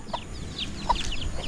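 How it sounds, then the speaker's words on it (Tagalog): A mother hen with a brood of newly hatched chicks: soft repeated clucks and thin high chick peeps scattered across a short stretch, close by in an outdoor farmyard near a hut, with no talking. "Ang dami pala namin bagong sisiw"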